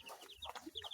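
Chickens clucking in a small backyard coop, several short close clucks and squawks following one another at an uneven pace with no talk over them.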